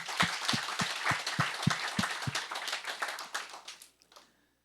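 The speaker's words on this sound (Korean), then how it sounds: "그렇게 믿으시는 분들 하나님께 박수 한번 하겠습니다" A congregation at a Korean church's Sunday worship service claps in a quick, fairly even rhythm, then the claps loosen into scattered applause that fades to silence near the end.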